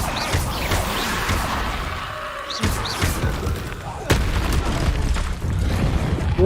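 Explosive blast spells cast in Hogwarts Legacy, booming thuds and crashes with whooshing bursts over a loud, busy game backdrop, one heavy impact standing out midway.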